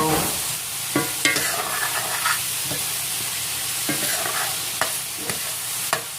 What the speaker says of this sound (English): Go ahead and saute those shrimps in with the seasoning